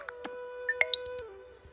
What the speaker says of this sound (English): New message drop. Detected. Icon. Play.